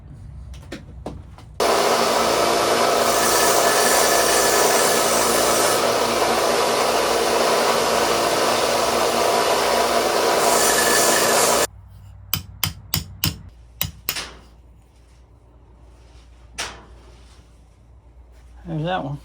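A motorized sander roars loudly and continuously against a vintage Case XX razor, stopping abruptly. Several sharp hammer taps follow, as if a pin is being punched out.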